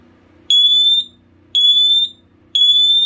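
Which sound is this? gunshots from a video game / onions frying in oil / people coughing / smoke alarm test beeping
smoke alarm test beeping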